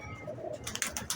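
A Sialkoti pigeon coos softly in low, murmuring phrases, with brighter bursts of noise and rustling breaking in near the end.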